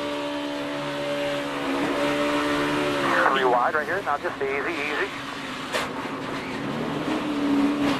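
A NASCAR race car engine at Daytona in 2015 drones steadily while someone talks over it, the pitch shifting as the revs rise and fall.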